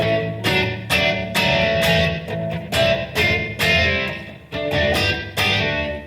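Distorted electric guitar played through a Line 6 Pocket Pod on the Echo KO preset, a series of loud strummed chords with sharp attacks and echoing, reverb-heavy sustain, chords cutting in and out rhythmically.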